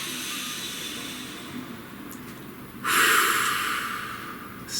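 A single deep breath is drawn in audibly, a close, airy inhalation rising in the second half after a quiet stretch, with another intake starting at the end.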